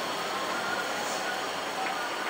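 Steady, fairly loud broadband rumble from inside a moving train at a city station, running continuously without breaks and with no clear talk over it.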